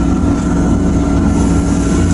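A Tigercat 630E skidder with a final Tier 4 engine runs steadily, giving a continuous low, rumbling drone heard from close by that holds even throughout, with no talking.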